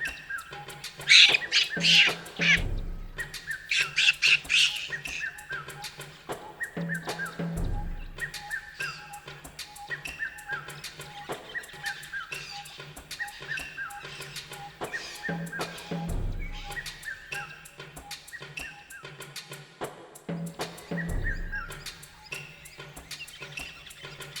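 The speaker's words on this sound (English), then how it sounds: "Now, let's meet Polly the parrot" Harsh bird calls, squawks and caw-like cries repeat in bursts through a jungle animal scene over a steady rhythmic backing, a cartoon parrot's calls at moderate loudness without talk.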